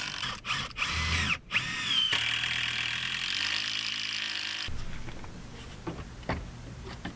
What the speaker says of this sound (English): Inch-and-a-half flathead self-tapping screws were used to anchor the deck to the cross member